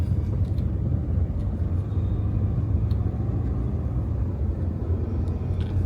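Slow-moving road traffic on a narrowed road under construction, with a steady low engine and tyre rumble from nearby cars and heavier vehicles that continues unbroken throughout.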